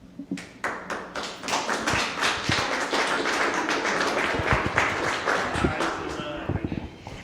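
An audience at a recreational therapy presentation claps, starting with scattered claps and swelling into steady applause, tapering to a few last claps.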